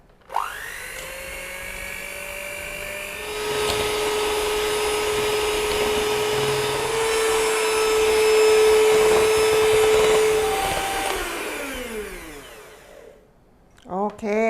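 Large electric mixer whipping Dalgona coffee foam, a loud steady motor whine that rises in pitch after a few seconds, holds, then winds down near the end, followed by brief clattering.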